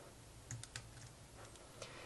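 A few faint, quick keystrokes on a keyboard paired with an iPad for a Command B shortcut, two or three soft clicks close together in a quiet room.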